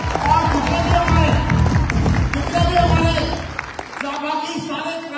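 A stadium audience at an awards function claps for an achiever, a dense, loud wash of applause and crowd noise with a voice over it, thinning out toward the end.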